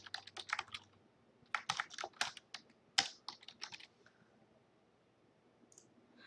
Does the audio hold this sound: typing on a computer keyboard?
yes